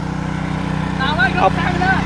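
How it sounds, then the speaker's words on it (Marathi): A washing machine motor used for cleaning a temple drones with a steady, low pulsing hum, while a person talks over it in the second half. "आपण आता जी मशीन आणली आता ज्या मंदिराला धुण्यासाठी"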